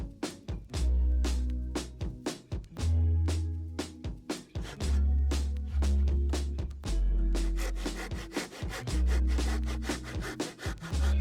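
Hand saw cutting wooden rafters from a template for a firewood storage shed, repeated rhythmic rasping strokes, close and loud, speeding up toward the end with no talking.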